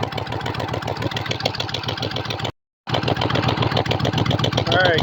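A motorcycle engine runs steadily with the choke on, a loud, close, rough rhythmic idle that cuts out for about a third of a second midway and then resumes.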